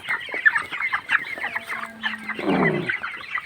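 Broiler chickens in a poultry farm shed, a chorus of soft clucks and short chirping calls at close range, uneven and overlapping, with one louder burst of squawking near the end.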